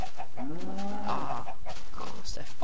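Chickens in the video game Minecraft cluck in short, close, loud bursts, a few repeated calls over a steady background.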